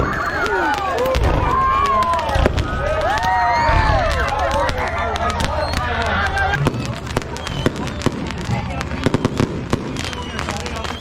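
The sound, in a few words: firecrackers bursting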